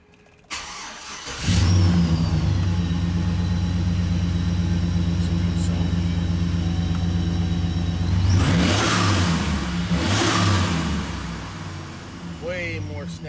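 A GMC Sierra pickup with a 5.3 engine, fitted with a new fuel pressure regulator, starts and then idles steadily with a deep rumble before a couple of sharp revs build and fade, loud and close with no talking.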